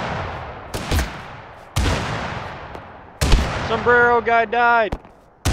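Loud booming gunshots ring out at intervals in the game Totally Accurate Battlegrounds, each shot followed by a long echoing decay, with a voice speaking briefly between shots.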